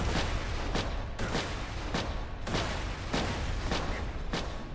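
Video game gunfire: heavy booming shots fired in a steady run of about eight blasts, one every half second or so, loud over constant noisy battle ambience with no voices.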